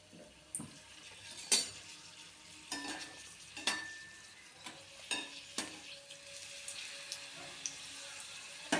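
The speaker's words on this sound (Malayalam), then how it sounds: "ചട്ടി ചൂടാക്കി എണ്ണ ഒഴിച്ച് എണ്ണയും ചൂടായിട്ടുണ്ട് ഇനി നമുക്ക് പപ്പട സ്നാക്ക് ഓരോന്നാക്കി ഇട്ട് കൊടുത്ത് വറുത്തെടുക്കാം" Papad snacks frying in hot oil in a pan, a steady sizzle broken by sharp crackles and bursts as pieces are dropped in and stirred, close and alone without speech.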